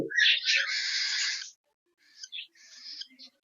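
Pet cockatiels, one of them a lutino, giving a loud drawn-out shrill call close by, then a short gap and a few softer, broken chirping calls.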